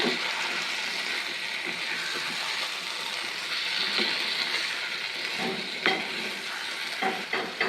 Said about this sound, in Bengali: এবার এর মধ্যে দিয়ে দেবো আমি মেখে রাখা চিকেন। চিকেনের সাথে মশলাটাকে আমি ভালো মতো মিশিয়ে নেব।